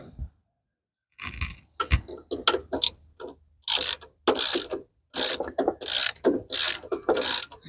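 A ratchet wrench works bolts loose on a 1996 Ford F250, clicking in repeated rapid bursts with short pauses between strokes, loud and close with no talking.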